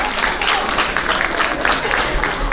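An athletic banquet audience gives the JV basketball teams a round of applause, dense and loud clapping from a crowd filling the room throughout.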